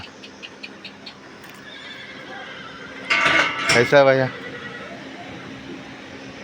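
A horse lets out one loud, shaky whinny lasting about a second, close by against a quiet background, with light knocks and brief talk before it.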